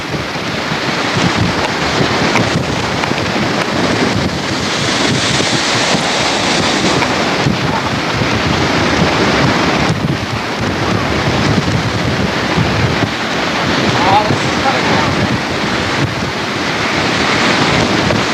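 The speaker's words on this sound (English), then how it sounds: "Now, this is the Waveberg in the local storm with wind up to 80 kilometers an hour." Waveberg boat riding huge storm waves in winds up to 80 km/h, heard as a steady loud roar of surf and gusting wind buffeting the microphone, continuous throughout with no voices.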